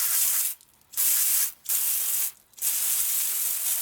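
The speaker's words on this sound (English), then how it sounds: "right now just quickly rinse it off just to get the big dirt off." Bursts of pressurized water spray rinsing dirt off a car wheel hiss loudly and close, broken by three brief pauses, like a hose being triggered on and off.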